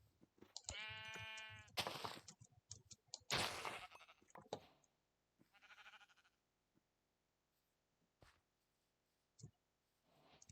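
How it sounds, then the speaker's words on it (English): Sheep in the video game Minecraft bleat in a couple of loud, close, wavering calls near the start, followed by scattered game clicks and thumps and quieter stretches. "here's like a bunch of sheep."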